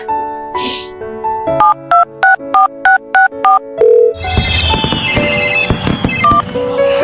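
A telephone rings on New Year's Eve in a short drama, starting with a few soft tones and then a run of loud, evenly spaced electronic ring bursts, followed by a dense, noisy stretch of mixed sound.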